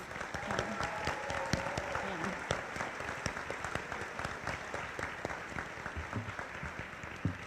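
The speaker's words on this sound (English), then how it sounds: "Give them a round of applause, please." A small audience at a high school honors convocation claps steadily, a scattered patter of hands continuing throughout with faint voices mixed in.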